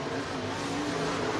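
Race cars roar down a dirt speedway toward turns one and two at a Northwest Florida IMCA event, a steady engine drone from the pack that holds at fairly even loudness throughout.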